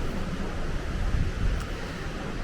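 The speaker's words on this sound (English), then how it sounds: "even though it's windy" Strong wind gusts across a cruise ship balcony on the P&O Iona, a steady rushing roar with low buffeting that swells and eases throughout, with no voices.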